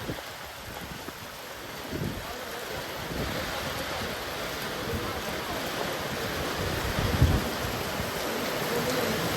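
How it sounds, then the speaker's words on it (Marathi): Heavy rain in a Konkan village roars steadily and loudly, a thick unbroken wash of noise with a few low rumbles underneath. "कोकणात पाऊस नाही आणि पाऊस एवढा लागतोय बघा ना"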